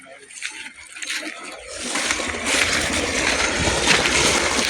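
Irrigation water runs through an onion seedling field, a faint trickle that swells into steady rushing and splashing after about two seconds, with voices talking nearby.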